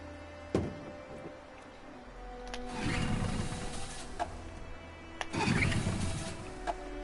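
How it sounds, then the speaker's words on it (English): A boat engine in a video game coughs into life twice, each start a brief rumbling roar that settles after a few seconds, with sharp clicks in between over a low steady hum. "We're far enough out. We can use the engine."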